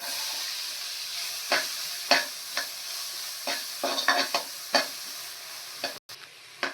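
Chopped onion sautéing in butter in a kadai: a constant sizzle broken by repeated sharp scraping strokes of a spoon stirring, close and clear, with no voices.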